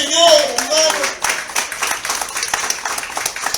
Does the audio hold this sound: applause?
yes